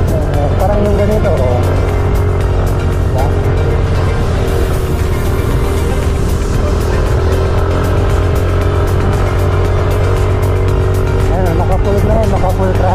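A Mio Gear S scooter engine at full throttle climbs an uphill road in Baguio, a steady loud drone with wavering pitch running throughout, while someone talks over it.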